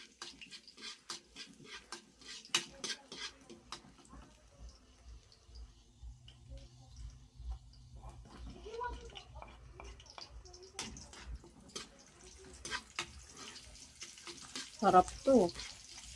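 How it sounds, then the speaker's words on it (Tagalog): Bitter gourd (ampalaya) sautéing in a pan, a soft intermittent sizzle with occasional stirring scrapes and some trickling water, fairly quiet, while someone speaks briefly. "Magigisa tayo ng favorite din ni Bait"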